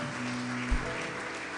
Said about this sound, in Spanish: Dale un aplauso y puede sentarse a Jesús.